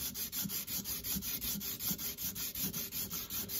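An acoustic guitar saddle from an Esteban AL 100 is sanded on a flat marble tile in quick, even back-and-forth strokes, a soft close scratchy rasp with no voices.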